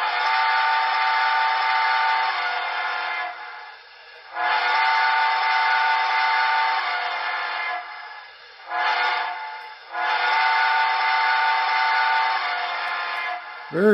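A BLI Southern Pacific GS-4 model steam locomotive with Paragon4 DCC sound blows its whistle for a grade crossing: two long blasts, a short one, then another long blast, loud and close, with no talking.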